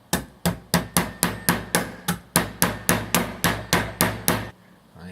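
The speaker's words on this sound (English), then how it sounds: "After hammering the shit out of that pin at 12:14 in the morning" Repeated hammer blows driving a speedometer pin on a Foxbody Mustang, about sixteen sharp, evenly spaced metallic strikes close up, each ringing briefly before the next, ending in quiet.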